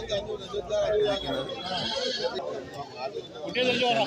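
Goats bleat at a large Kerala goat market, with nannies and young kids among them. Several bleats rise from busy crowd noise, and people talk continuously over them.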